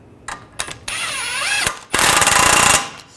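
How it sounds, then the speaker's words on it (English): A power tool whirs in two sustained bursts, loud and close, with short clicks and brief spins before them, tightening a control arm nut on a 2009-2010 BMW 535i xDrive. "Tighten that nut down."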